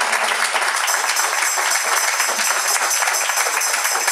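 A church congregation claps for the Lord during a Christian service, producing a loud, dense, unbroken wash of many hands that stays constant for the whole stretch.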